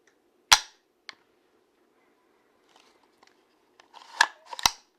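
A training pistol's action cycled by hand in a shooting simulation setup, producing a sharp metallic clack, a lighter click, scattered faint ticks, then a cluster of snappy mechanical clacks near the end, all close and otherwise quiet.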